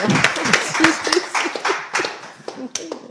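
Hand clapping in quick, uneven bursts, close by, mixed with laughter and voices talking over it.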